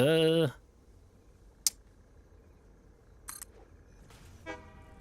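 A train horn honks briefly at the start in the video game Satisfactory, a loud harmonic blast that cuts off quickly, followed by a quiet background with a few faint clicks and short tones.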